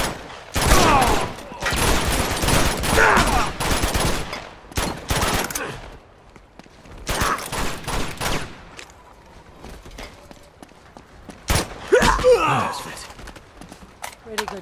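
Gunfire in the video game Uncharted 2, bursts of rapid shots in clusters with gaps between, loud and close, mixed with game sound effects.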